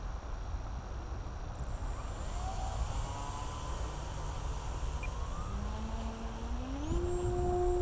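An E-Flite Timber 1.5m RC airplane flies on its maiden flight, its electric motor a thin steady whine that rises in pitch toward the end, heard from a distance over constant outdoor background noise.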